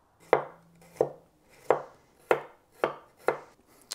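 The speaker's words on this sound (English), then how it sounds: "I just chopped 4 to 6 decent sized garlic cloves, about 1/4 cup or so of thinly sliced garlic." A knife slicing decent-sized garlic cloves thinly on a cutting board, about six crisp, evenly spaced chops close by, with no talking.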